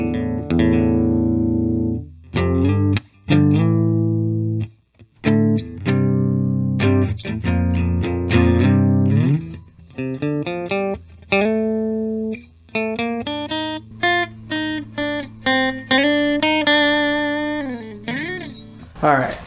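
Electric guitar played with a clean tone before an Ibanez TS9 Tube Screamer is switched on, with strummed chords and picked single-note lines ringing through an amp, loud and close with no talk.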